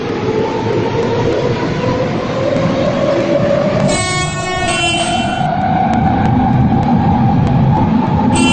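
An Athens metro train runs on its line toward Larissa Station, a loud continuous rumble of wheels and motors with a rising whine, and a brief clattering electronic chime midway.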